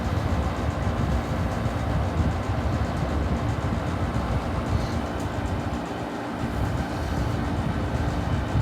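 An early 1960s Welbilt 5,000 BTU Slim air conditioner running in a hot garage, giving off a loud, steady whooshing roar of fan and compressor that holds unbroken from start to finish without speech.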